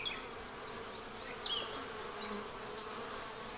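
Honeybees buzzing at a weak hive during a dearth, with robbing colonies fighting, a soft continuous hum with occasional nearer individual bees droning past.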